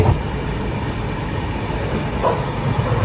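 Steady loud rumble of a passenger train running on rails, heard from on board, with a continuous rolling drone and faint wheel clatter throughout, no voices.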